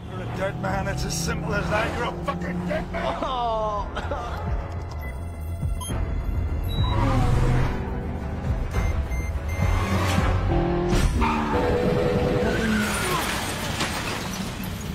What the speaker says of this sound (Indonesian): Ia lalu meretas mobil Mike hingga akhirnya mobil itu melaju dengan sangat kencang.